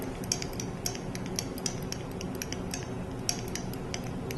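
A spoon stirs slush forming in water cooling toward its freezing point, making faint, irregular little clicks and ticks close by, with no voices.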